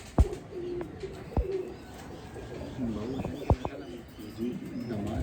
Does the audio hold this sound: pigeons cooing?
yes